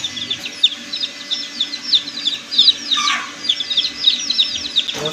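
Busy chicken sounds fill the scene, with a large hen and young chicks clucking and chirping repeatedly at close range, steady and fairly loud throughout.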